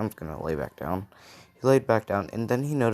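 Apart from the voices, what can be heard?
No everyday noises stand out.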